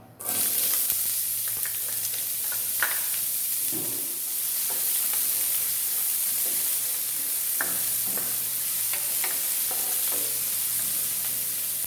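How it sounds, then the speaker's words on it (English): Onions sauté in hot oil for a cassadura (hassa) curry, a steady close sizzle and hiss broken by occasional stirring scrapes and clinks, with no one talking. "it looks like the oil is hot, so we're just gonna add the onions for now"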